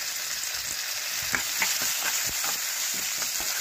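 Green chilies frying in hot oil for a tomato-onion chutney, with a steady bright sizzle throughout and soft crackles and pops scattered over it as they cook, close and continuous with no talking.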